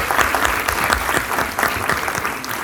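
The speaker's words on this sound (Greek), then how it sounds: "θα ήθελα να προσκαλέσουμε με ένα ζεστό χειροκρότημα την Έλενα" Sustained, dense applause from a TEDx audience as a helper named Elena is welcomed on stage, steady and fairly loud with no voices over it.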